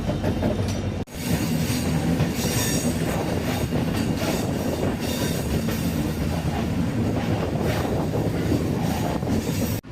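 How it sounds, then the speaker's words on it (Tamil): A Guruvayur Express train with new LHB coaches rumbles along a hill route, heard from the last coach: low diesel locomotive engine drone, rattling carriages and faint wheel squeal, loud and continuous throughout. "உங்களுக்கு அந்த டீசல் இன்ஜினோட ஹம்மிங் சவுண்டு கேட்குதான்னு தெரியல."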